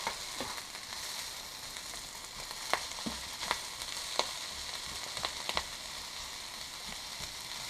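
Kale sizzling and frying in a pan, a steady close crackle with scattered sharper pops and occasional stirring scrapes throughout.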